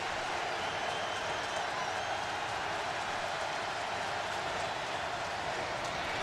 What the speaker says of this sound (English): I think you're going to hear the Rocky Top crowd get into this one.